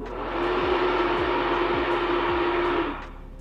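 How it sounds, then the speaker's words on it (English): A household bathroom exhaust fan runs with a steady broadband whoosh and a faint tonal hum, swelling up quickly, holding constant for a couple of seconds, then winding down, close by. "So some bathrooms in America have exhaust fans."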